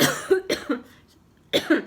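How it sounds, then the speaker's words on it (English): A series of sharp, close coughs, four or five in quick succession, with a brief pause before the last pair. "Sorry, I still have a cough."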